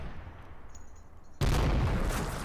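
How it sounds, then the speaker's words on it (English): Gunfire from flank gun positions engaging infantry in the Panzer Campaigns Kiev '43 wargame: a low rumble, then a sudden loud burst that holds as a dense roar to the end, with no talking. "flank guns engaging some infantry"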